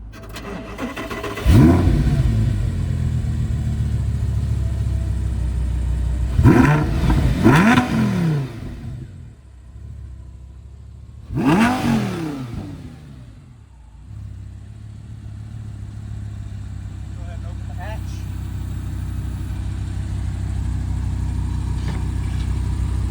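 A friend's newly bought sports car, carbon fibre throughout its engine bay, cranks and fires up, then gives several loud throttle blips that rev and fall back before settling into a steady idle, heard close and without talk.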